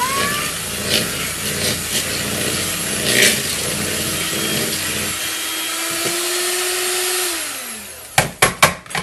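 An electric mixer beats thick avocado chocolate cookie dough, a loud continuous motor whir that changes pitch as it slows, followed by a few sharp knocks at the end.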